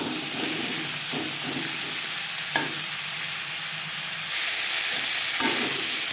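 Pointed gourd tossed with turmeric and salt fries in a pan with a steady close sizzle and hiss, broken by a few stirring scrapes.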